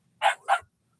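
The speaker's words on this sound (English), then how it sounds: "That's her right there barking." A dog gives two quick, sharp barks in close succession, loud and near, with silence on either side.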